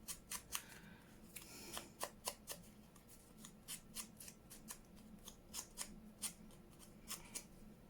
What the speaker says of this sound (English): Just cut them out with my zigzag scissors.